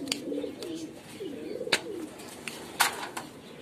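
Red Lahori pigeons on a pigeon farm give soft, repeated cooing calls, close by and moderately quiet, with occasional sharp clicks and rustles between the coos.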